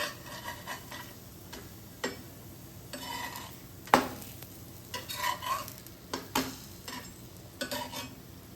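Besan pudla, gram flour pancakes, cook on a pan over a low flame, a faint sizzle beneath repeated scraping and tapping of a spatula against the pan, with one sharper clank.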